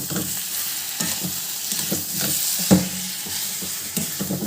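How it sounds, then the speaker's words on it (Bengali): Fish curry with potatoes, pointed gourd and lentil dumplings is stirred in a frying pan, giving soft repeated scraping strokes over a steady low sizzle, close and fairly quiet, with one sharper clack of the utensil. "সারাশে দিয়ে নাড়লে না ঠিক করে নাড়া হয় না, পিছলা খায়।"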